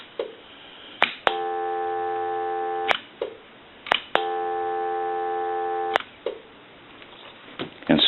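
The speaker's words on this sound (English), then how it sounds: "Now we have dial tone." A transparent Teleconcept telephone gives a steady electronic tone in two separate bursts of a second or two each. Sharp clicks of the hook switch come before and after each burst.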